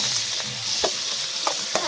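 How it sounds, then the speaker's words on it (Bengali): Boal fish sizzle and fry in hot oil in a wok, a steady close-up crackle with a few sharp pops and stirring taps. "ভালো, কড়া গরম হয়ে গেছে, কড়াইতে এবার মাছগুলো দিয়ে দিচ্ছি।"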